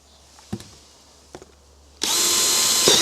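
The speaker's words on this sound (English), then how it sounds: "I'm going to drill some holes in this container because you need your containers to breathe" A power drill bores holes through a white plastic container: a loud, steady whine that starts suddenly and holds for about a second, with a few faint knocks and handling clicks before it.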